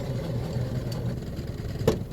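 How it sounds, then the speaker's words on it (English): Noisy pilot bearing or bushing in a four-wheel-drive vehicle just after a transmission replacement, heard as a steady low drivetrain drone with a whirring engine hum, close and continuous, with a brief click near the end and no speech. "Noisy pilot bearing. Doesn't like this pilot bushing."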